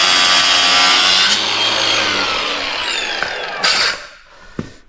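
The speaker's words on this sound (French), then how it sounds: "mais déjà on met un petit coup de meuleuse." An angle grinder bites into a metal steering part of a Peugeot 205 GTI: a loud, harsh, high-pitched grinding whine that slowly sags in pitch, briefly flares again, then spins down and cuts out, close by with no talking.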